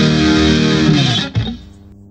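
A sustained electric guitar chord with a shimmering chorus effect from a Zoom G1on multi-effects pedal, ringing out then decaying, followed by a short second strum.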